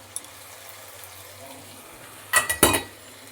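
Tomato and capsicum being stirred into onion, ginger and garlic in a pan: quiet background sizzle, then a few sharp scraping clatters of a spoon against the pan.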